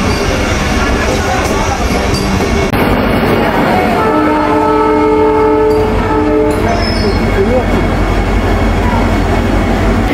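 A loud Vande Bharat Express train rumbles close by as it arrives at New Jalpaiguri station at night, with a heavy continuous roar and its horn sounding a sustained multi-tone blast midway; faint voices underneath.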